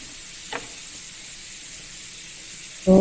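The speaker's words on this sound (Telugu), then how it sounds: "ఎక్కువ ఆయిల్ వేసుకొని ఫ్రై చేసుకొని తీసి పక్కకు పెట్టుకోవాలి." Alu (potato) pieces frying in plenty of oil give off a steady, soft sizzling hiss, with a faint brief sweep early on and a short louder clatter at the very end.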